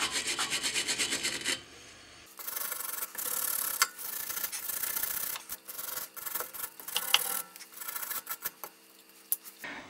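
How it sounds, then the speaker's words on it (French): A wire brush scrubs hard across a metal castle nut, harsh raspy strokes coming in uneven bursts after a short steady buzzing start, close and fairly loud with brief pauses between passes. "on va nettoyer un peu tout ce bordel ici avec une brosse métallique"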